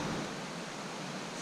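Water pours over a small weir on a river path near Gibson Mill, a steady, broad rushing wash heard close and continuous with no voices.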